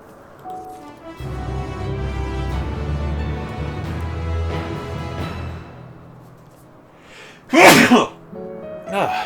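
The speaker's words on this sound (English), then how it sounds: "Did not mean to sneeze." A single loud, sharp sneeze bursts out near the end, following a stretch of low, sustained background music from Final Fantasy XIV.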